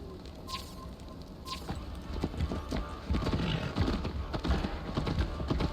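Horse hooves clip-clop along in Assassin's Creed Valhalla gameplay, a steady close patter over a low ambient bed with a faint whinny early on.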